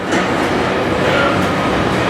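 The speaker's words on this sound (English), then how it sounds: "That freight train's going up the Coventry Nuneaton line is quite amazing." A freight train passes on the Coventry to Nuneaton railway line, a loud, steady rumble with rhythmic clatter of wheels on rails, close by.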